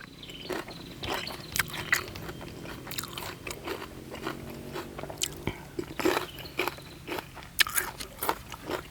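Close crunching and chewing of raw beef with liver and bitter melon, a steady run of wet bites and mastication with sharp crackles, in a quiet room without talk.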